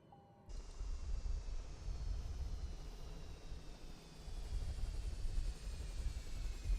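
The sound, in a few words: TBM930 aircraft engine powering down, Microsoft Flight Simulator video game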